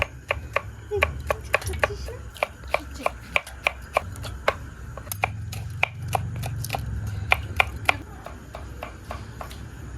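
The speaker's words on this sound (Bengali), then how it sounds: "পেঁয়াজ কুচি আদা কুচি ভাজা গুঁড়ো মশলা লঙ্কা কুচি ভালো করে ফেটে নেব" A fork beats eggs with spices rapidly against a bowl, making a quick, steady series of sharp clicking taps, close and fairly crisp.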